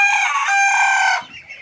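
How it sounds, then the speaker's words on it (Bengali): Farm chickens give a loud, close crowing call lasting about a second, then fall to a few soft clucks. "আর ওই সাইডে হচ্ছে আমার সেই ফার্মি মুরগিগুলো"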